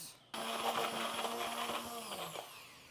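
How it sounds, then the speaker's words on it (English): A hand blender switches on abruptly and whirs steadily through pumpkin batter with cottage cheese, its motor pitch wavering and sagging slightly under load for about two seconds before easing off, close and fairly loud. "I'm gonna go in with my hand blender and just blend it up to get rid of the cottage cheese texture"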